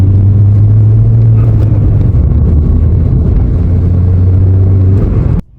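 A Ford Fiesta ST with a short shifter and fresh gearbox oil drives along steadily, a constant low engine and road rumble filling the cabin throughout before cutting off abruptly at the end.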